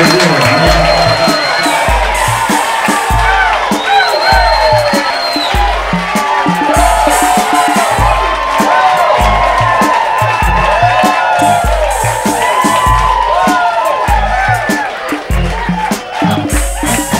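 A live crowd cheers and whoops for a New Orleans singer on stage in 2001, a steady roar of voices over a thumping band that keeps going throughout.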